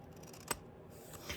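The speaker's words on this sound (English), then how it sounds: "I do need to cut some of these black edges off." Scissors cut along black paper edges in a quiet, close snip or two, one sharper crisp cut standing out briefly amid soft rustling, with no voices.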